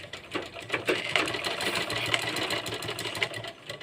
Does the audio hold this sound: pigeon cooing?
no